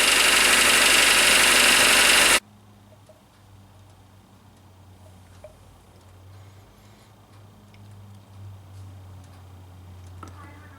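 An engine with mild rod knock, running on 10W30 oil with Lucas Oil Stabilizer added, idles with a low steady hum and vibration after a brief loud, harsh burst at the start.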